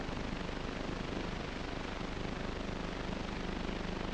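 An early, unstable helicopter tethered to the ground, heard as a dense, steady engine and rotor roar that fills the whole stretch with no voices.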